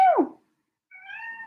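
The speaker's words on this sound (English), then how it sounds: "I've got a cat in here. I've got a kitten." A kitten meows twice, up close and clear: first a falling, bending cry, then after a short pause a steadier, drawn-out mew. Nobody speaks.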